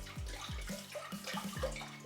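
Close, quiet gurgling of two liters of spring water being poured into a pot, with a series of rising glugging pulses in an uneven rhythm.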